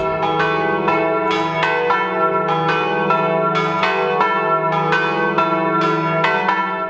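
Several church bells peal continuously at a national bell ringers' gathering in Casalecchio di Reno, Italy, in overlapping, rhythmic strikes, loud and resonant with a sustained hum beneath.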